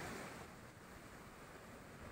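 Steady wash of sea waves at a beachfront in Morong, Bataan, heard as a continuous broadband rush with some wind on the microphone, fairly faint and with no voices.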